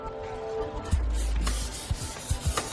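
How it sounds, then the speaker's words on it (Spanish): Steady abrasive rubbing of sandpaper along the edges of a Koenigsegg Agera car body, continuous with a few louder knocks and strokes near the end, close by. "lijamos todos los bordes y alisamos la superficie para poder pintarla"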